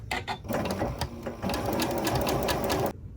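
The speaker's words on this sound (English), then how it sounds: "stitching the front and backs of the shirts along the shoulder line" Sewing machine running steady normal stitches along the shoulder seams of a shirt made from open-weave thrift store tablecloth fabric, a continuous close whir that stops abruptly near the end.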